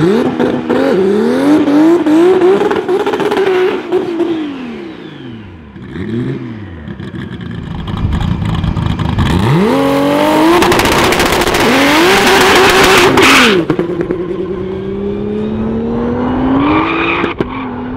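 A turbocharged BMW E30 with an M20 engine revs hard and accelerates in repeated loud, rising and falling sweeps, with gear changes and what sounds like tyre squeal, filling the whole stretch without talk.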